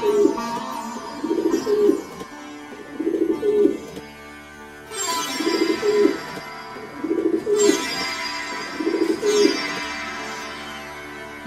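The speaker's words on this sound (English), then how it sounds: "Pigeon." Pigeon cooing, a soft low rhythmic coo repeated about six times at even intervals, close and unaccompanied by talk, with faint other bird sounds behind.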